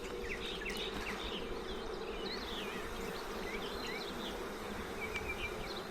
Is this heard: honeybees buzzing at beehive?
yes